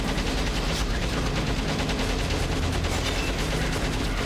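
Continuous rapid gunfire from the Shadow the Hedgehog video game, a loud unbroken stream of shots rattling on steadily without pause and without any talk over it.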